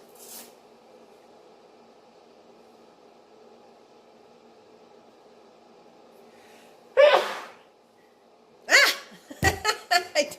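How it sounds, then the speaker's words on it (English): A person sneezes once loudly and abruptly mid-clip, then a faint voice and a dog's quick run of sharp barks follow over a low steady hum. "I'm going to sneeze again."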